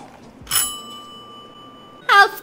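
A doorbell rings in the Hitman video game, two bright metallic chimes about a second and a half apart with a clear lingering tone between them, loud and close.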